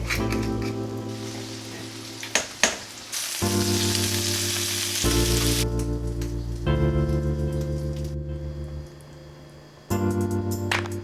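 Chicken thighs sear in a hot pan, a steady crackling sizzle that runs through most of the clip beneath loud, continuous background music.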